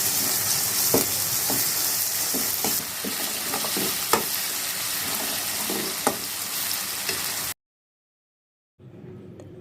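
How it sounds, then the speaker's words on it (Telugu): Ginger garlic paste fries with tomatoes in a pan, a steady close sizzle with scattered stirring scrapes and taps, then cutting off abruptly before faint sizzling resumes. "ఆ అల్లం వెల్లుల్లి పేస్ట్ చేసుకొని అది కూడా పచ్చివాసన పోయేంత వరకు వేయించుకోవాలి మనం."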